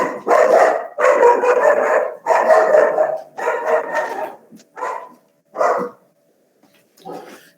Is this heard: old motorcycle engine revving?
no